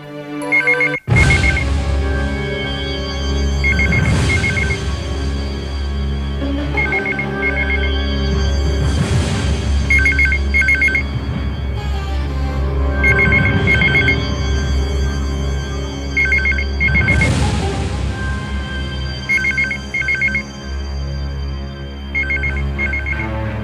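An old-style telephone bell rings repeatedly in a Hindi TV drama, loud bursts of ringing in a steady rhythm with brief pauses between them, heard over a sustained dramatic music background with no talk.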